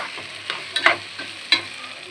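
Rice frying in a pot for polao, a soft continuous sizzle broken by a few sharp scraping stirs of the spoon against the pot, close and fairly quiet.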